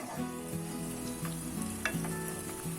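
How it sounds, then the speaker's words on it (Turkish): Onions sautéing in a pan until pinkish, a continuous close sizzle with a few sharp spatula clicks and scrapes, no talking over it. "Soğanlarımız pembeleşinceye kadar birkaç dakika boyunca kavuralım arkadaşlar"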